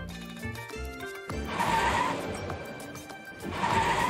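A car engine in the video game Arknights revs in bursts, with rising whines over choppy, stuttering engine tones, alongside game sound effects.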